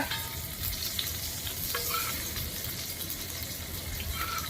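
Pomfret fish fries in masala in a pan, a steady close sizzle and crackle of hot oil with occasional stirring scrapes and light clinks, no voices over it.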